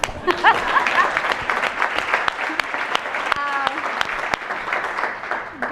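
An audience claps steadily throughout a talk event, a dense continuous patter of many hands at moderate loudness, with a few sharper individual claps standing out and no speech over it.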